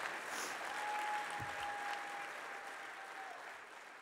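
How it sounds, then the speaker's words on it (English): An audience at a conservative summit applauds in a sustained, even clatter of clapping that slowly tapers off toward the end, with a faint tone running underneath. "let's give another round of applause to these brave men"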